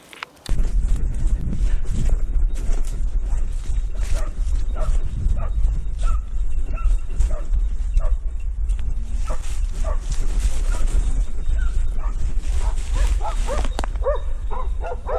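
Several hunting dogs barking and yipping repeatedly outdoors during a wild boar hunt in Turkey, some near and some farther off, with whimpers mixed in over a low rumbling background.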